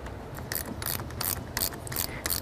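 A wrench ratchets in repeated short bursts as it tightens the ground cable bolt on a modern car battery, the clicking runs coming close and fairly loud over a low background rumble.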